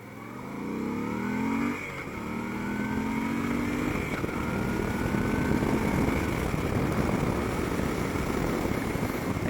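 A Moto Guzzi motorcycle engine on the move, a loud, continuous drone with rising pitch sweeps as it accelerates through the gears, mixed with road and wind rush and no speech.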